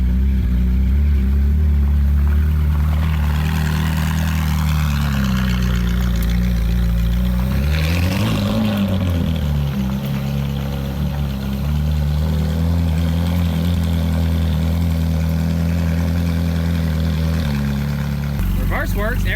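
A Ferrari 458 Spider, rebuilt after a wreck, idles while rolling back in reverse down a driveway, a loud steady low engine drone with a brief dip and shift in pitch midway, voices talking over it.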